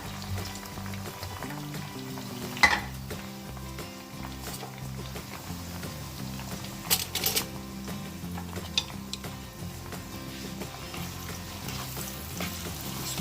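Cubed tomatoes fry in a pan at a steady, moderate sizzle, with occasional sharp clinks and scrapes of a spoon stirring against the cookware.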